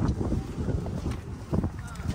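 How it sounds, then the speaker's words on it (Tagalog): Strong wind buffets the microphone with a steady low rumble and gusty bursts, while a person speaks over it, at dawn on the sky bridge at Haneda Airport. "Lakas ng hangin, lamig."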